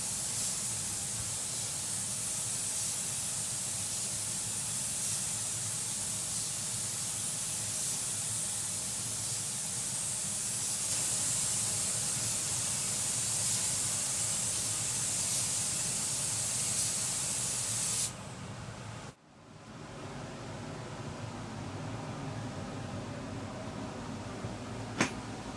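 A spray gun lays a medium to heavy coat of medium build primer onto a cafe tank, a steady close airy hiss that runs unbroken for about eighteen seconds, then stops abruptly before fainter hissing resumes.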